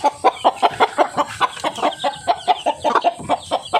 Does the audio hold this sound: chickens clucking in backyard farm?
yes